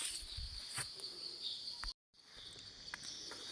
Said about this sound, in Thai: หาจิ้งหรีดนะครับจิ้งหรีดในป่า จิ้งหรีดขาวนะครับ